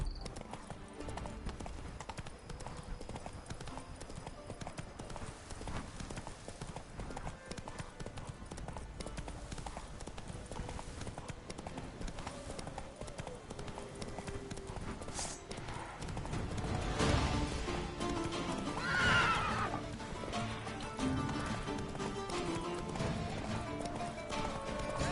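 Roach the horse trotting in The Witcher 3, steady clip-clop hoofbeats running throughout, with a neigh rising near the end, loud and close over game ambience.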